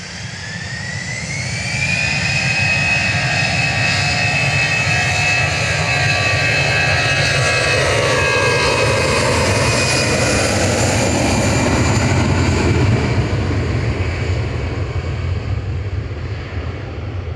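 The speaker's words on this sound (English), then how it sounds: "EasyJet off to Copenhagen, A320-200, GEZWP." An EasyJet Airbus A320-200 takes off from Manchester Airport with a loud, sustained jet engine roar and a rising whine that swells and slowly fades.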